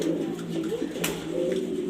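Grizzle racer pigeons coo in a loft, soft throaty rolling calls repeating close by over a steady background hum.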